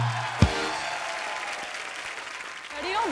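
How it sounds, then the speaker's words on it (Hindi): Studio audience applause on a comedy show as Anushka Sharma is welcomed, broad steady clapping after a brief thump, with some music and faint voices underneath. "प्लीज आप सबकी जोरदार तालियों के बीच the very talented Anushka Sharma."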